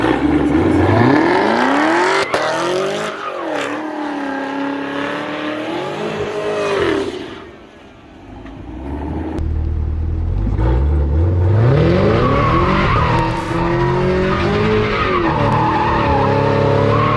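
A drifting car slides through watermelons, its tires skidding and squealing in long sweeping bursts as the engine revs loudly and rises and falls, with a brief lull partway through before the screeching resumes.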